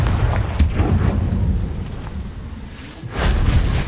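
A deep booming blast from the Confringo fire spell in Hogwarts Legacy rolls out low and heavy, then a second rumbling explosion swells near the end.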